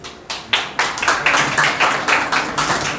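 Scattered audience clapping greets a mimicry performer at an Independence Day event, a few close individual claps building into steady rhythmic applause that holds for a few seconds.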